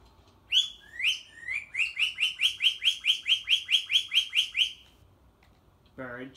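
A bird in the game Batman Arkham City chirps loudly and close, first a few rising calls and then a rapid, evenly spaced series of about fourteen bright tweets, followed by silence and a short low game sound at the end.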